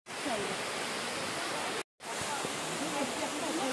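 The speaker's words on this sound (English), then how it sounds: "This is the waterfall." Steady broadband rush of a waterfall in a scenic gorge, continuous and fairly loud, with one brief cut partway through; a faint voice may sit beneath the roar.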